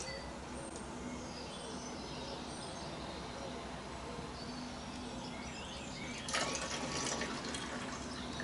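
Water runs steadily into a foam lance bottle holding car wash solution, a continuous splashing hiss that grows louder near the end, with faint birdsong in the background.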